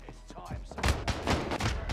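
Gunfire in Call of Duty: Warzone, a few sharp, loud shots landing close together after a quieter start, with a player's voice talking through it.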